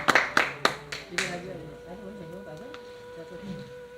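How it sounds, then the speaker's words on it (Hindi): A few sharp, scattered hand claps at a network marketing event, fading quickly into a low murmur of voices and background hum. "सर के लिए भी जोरदार तालियां बजनी चाहिए।"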